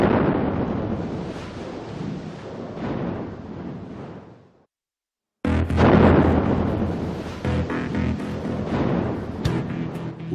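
A loud, booming bomb blast in Brixton, London, with rumbling debris noise, a brief dead silence, then another heavy, crackling burst of explosive sound.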